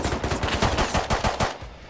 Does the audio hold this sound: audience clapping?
no